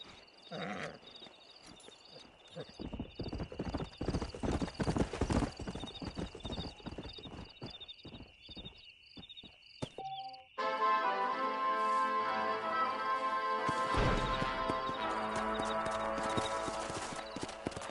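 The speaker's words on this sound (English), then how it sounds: "why don't you keep that stallion as your own" A stallion's hooves clip-clop steadily in the Red Dead Redemption video game, a brisk, close rhythmic trot over game ambience, then fuller music and scenery sound swell in for the second half.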